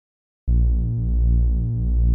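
Distorted synth bass from Ableton, a sustained harmonically rich note that starts abruptly after a short silence and holds loud and steady, alone with no drums or voice.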